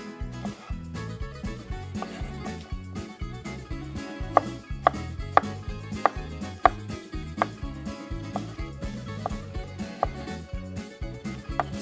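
A knife dices cucumber strips into small cubes on a cutting board, with quick, regular chopping taps that run steadily and closely over a faint musical background.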